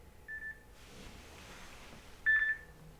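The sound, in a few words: nap alarm beeping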